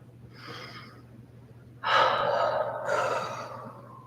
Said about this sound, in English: Just take a nice deep breath.